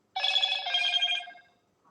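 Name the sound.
telephone bell ringing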